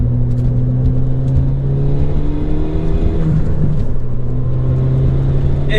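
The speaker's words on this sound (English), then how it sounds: "Oh my god, the turbo. The turbo really works in this car" A 2016 Ford Fiesta ST with its small turbocharged engine pulls hard on a wet road, a loud, close, steady engine drone with sustained tones that rise slightly under load, with no talk over it.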